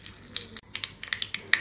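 Mustard seeds splutter in a tablespoon of hot ghee for an Onam sadya parippu curry, giving sharp, irregular popping crackles close up over a low sizzle.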